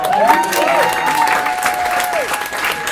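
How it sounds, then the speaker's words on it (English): Audience applause and some cheering in a small club, loud and continuous for the whole stretch, with a whistle-like tone and voices mixed in. "You guys are already clapping your hands right now."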